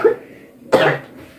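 Someone coughs twice close up, a short harsh cough followed after a brief pause by a longer, rougher one.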